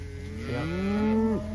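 A cow lets out a long, low moo with a rising then falling pitch during a drive of 125 cow and calf pairs after heavy rain, heard fairly near over a faint outdoor background.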